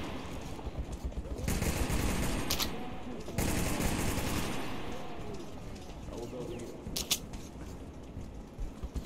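Gunfire in Metro 2033 Redux, a first-person shooter, comes in bursts of rapid shots with sharp cracks and louder volleys, while a player talks over the action.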